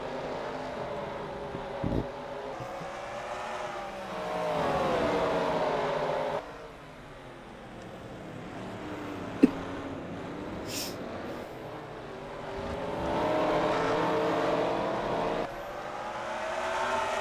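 Engines of race cars roaring together in a racing video game at the Chicago Pier, a sustained loud drone that swells, dips for several seconds, then builds again, with a sharp click near the middle.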